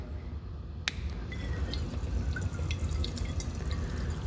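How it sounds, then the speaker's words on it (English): Water runs through a small hydroelectric generator, making a faint, steady rushing trickle with light splashy ticks. A single sharp click comes near the start. "The water's flowing. This is spinning."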